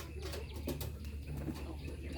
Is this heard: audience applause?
no